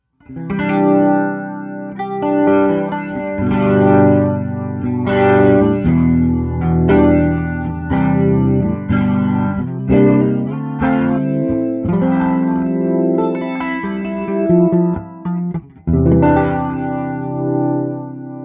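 An electric guitar plays chords through an AmpliTube 5 Max amp simulator with crunchy, mild breakup, ringing with a touch of reverb and no voices.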